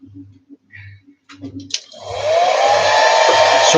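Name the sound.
heat gun or hair dryer warming a carburettor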